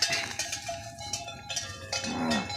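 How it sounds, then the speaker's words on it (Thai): Cattle come along with cowbells clanking in irregular, ringing knocks, fairly close, with a faint low animal sound toward the end. "นี่วัวของลุงมาละ"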